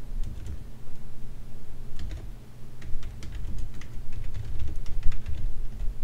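Fingers typing code on a computer keyboard, a steady close patter of key clicks in irregular bursts with a short pause, over a low background hum and no speech.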